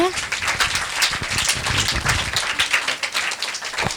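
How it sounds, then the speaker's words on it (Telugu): An audience at a Christian church competition event claps steadily, a dense continuous patter of many hands close by, with voices talking over it. "అందరూ క్లాప్స్ కొట్టండి"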